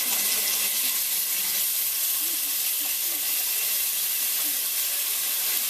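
Ginger garlic paste browning with onions in hot oil sizzles in a steady, hissing crackle, close and even throughout with no talk.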